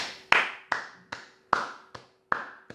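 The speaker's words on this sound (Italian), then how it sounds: "Ehi, applausi." Slow, deliberate hand claps, seven sharp strikes spaced unevenly with a short ring after each, close and fairly loud with no talking.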